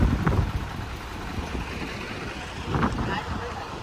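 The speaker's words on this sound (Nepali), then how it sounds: "डोल्पामा दह्रो हावा हुने रहेछ" Strong wind in Dolpa, Nepal, on the route to Shey Phoksundo, roars and buffets the microphone in steady, loud gusts throughout, with a rumbling low-end that swells near the start and again near the end.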